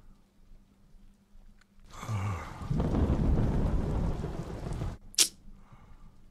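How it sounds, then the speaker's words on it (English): Rain and rumbling thunder from a storm in a fantasy drama TV scene, a steady downpour swelling into a loud roll of thunder with a sharp crack near the end. "The storm in the background is just a foreshadow of what's to come."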